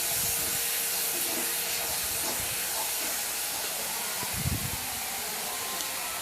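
Grated onion, garlic and ginger hit hot oil tempered with cumin seeds, giving an even, loud sizzling hiss that stays constant, with a few faint clatters underneath.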